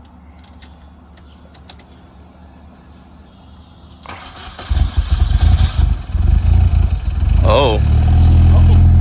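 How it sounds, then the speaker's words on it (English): An R53 Mini Cooper S fitted with a cheap eBay exhaust cranks and fires up nearby, then settles into a loud, rumbling idle after a few seconds of quiet; a person exclaims briefly as it catches. "Start it. Let's see how this thing sounds."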